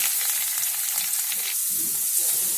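Ginger garlic paste and carrots sautéing in hot oil in a pan, a steady close sizzle with soft stirring scrapes, no voices.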